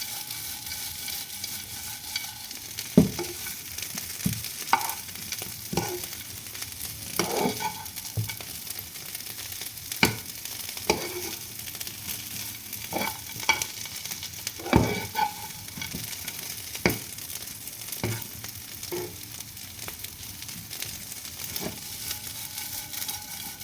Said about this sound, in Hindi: मेरे आलू ऑलमोस्ट ब्राउन होना शुरू हो गए हैं एंड मेरा घी कम नहीं पड़ा बिल्कुल भी।